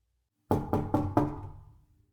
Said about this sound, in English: Then came another knock.